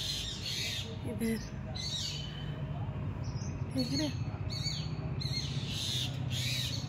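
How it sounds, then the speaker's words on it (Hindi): Birds squawk and caw repeatedly on an early sunny morning, crow-like calls mixed with chirps rising over steady background hum while someone talks nearby. "चिड़ियाँ चहचहा रही हैं"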